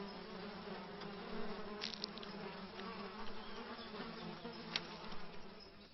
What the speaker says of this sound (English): Biting insects are a constant torment.